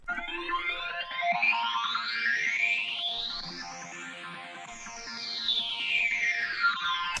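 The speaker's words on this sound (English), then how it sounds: "So now we get this little sweep effect." Distorted guitar power chords in a hard rage beat with a sweeping effect that glides up then back down, giving a swirling, whooshing tone throughout.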